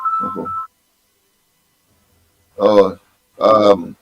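An incoming call on a mobile phone rings with a short, bright tonal burst, then there is silence, then two brief bursts of nearby speech.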